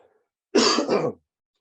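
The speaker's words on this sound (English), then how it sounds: "Sorry, fighting that cough for a little while." A single harsh throat clearing with a cough, close and loud, lasting under a second and surrounded by silence.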